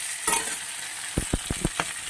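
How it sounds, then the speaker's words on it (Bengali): Grated ginger fries with vegetables in a pan under a constant close sizzle, punctuated by a few quick spatula scrapes and stirs. "গ্রেট করা আদাটাকে আমি দিয়ে দেবো আদাটাকেও হাফ সেকেন্ড মতন ভেজে নেব"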